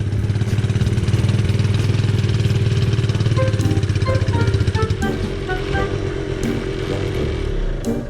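A pit bike's small engine runs right up close, a loud, steady buzzing idle that turns rougher and more uneven toward the end, with no voices over it.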